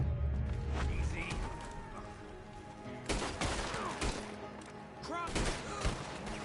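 Gunfire in a Red Dead Redemption 2 town shootout: several sharp loud shots and volleys ring out with echoing tails, mixed with shouting voices and a low music bed.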